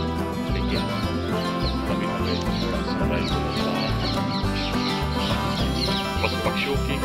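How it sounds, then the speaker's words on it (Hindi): Birds call and chirp repeatedly in a dense forest on Seminary Hill, over a busy backdrop, with clucking fowl-like sounds scattered throughout. "बस पक्षियों की आवाज भी हमें नजर आ रही है"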